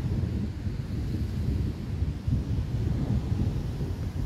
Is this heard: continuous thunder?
yes